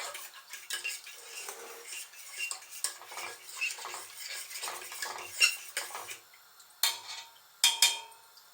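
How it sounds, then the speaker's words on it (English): A spoon scrapes and clinks steadily around a saucepan of custard being made for rhubarb and custard, an irregular run of light metallic taps and scrapes, close and fairly quiet with no talking. "Keep stirring it as best we can."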